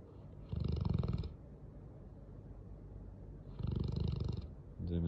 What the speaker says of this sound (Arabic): زي ما انت شايفين بيشخر مش دعوة